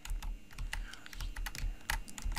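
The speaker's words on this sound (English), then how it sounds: "So I'm just using the keyboard at this moment." Rapid clattering keystrokes on a computer keyboard during a driving game, close and steady with irregular bursts of taps and no talking.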